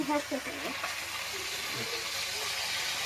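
Fish heads fry in oil in a wok, giving a steady hiss and sizzle that runs on through the moment, with a person talking over it at the start.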